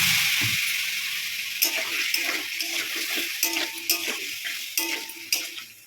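Ginger and cumin fry in a pan as a little water is added, producing a broad sizzling hiss that slowly settles, with intermittent scrapes and clinks of a utensil stirring close by.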